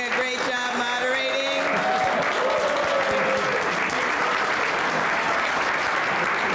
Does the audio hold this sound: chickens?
no